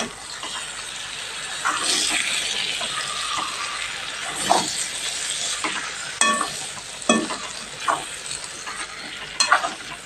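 Whole eggplants fry in an oil-filled pan with a steady hiss and sizzle, while a spoon stirs and scrapes through them in brief clattering bursts, close and continuous without talk.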